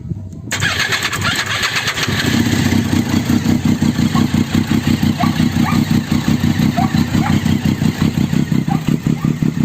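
A Triumph Daytona 675 sport motorcycle engine cranks and fires up, then settles into a steady, close, pulsing idle.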